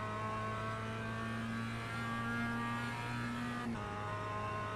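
Mazda MX-5 race car engine in iRacing at Okayama, a steady mid-pitched drone holding revs under power out of a corner, with a brief shift-like dip near the end and no talk.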